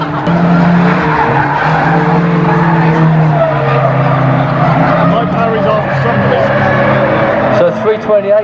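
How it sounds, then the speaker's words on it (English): A Chrysler banger car spins out at Aldershot Raceway during banger racing, with a loud, continuous roar of engines and squealing, skidding tyres close by, under a voice talking throughout. "So 328 spins the Chrysler"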